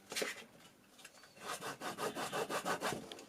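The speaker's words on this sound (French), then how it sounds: "Pensez à bien écraser tout le tour à l'aide du plioir." A bone folder is rubbed firmly around the creases of a cardboard petal box, making a rapid series of rhythmic scraping strokes, close and clear, with no talking.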